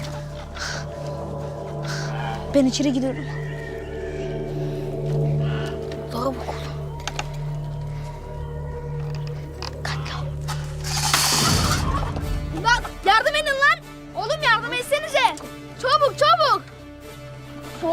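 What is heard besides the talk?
chickens clucking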